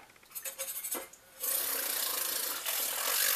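A small milk frother whirs in a pot of water, starting with a few short stuttering bursts, then a brief gap, and finally settling into a steady, close buzzing hum.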